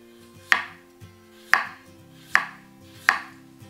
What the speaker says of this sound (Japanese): 生姜はですね、繊維がこう通ってるんですが、繊維に沿って切るようにします。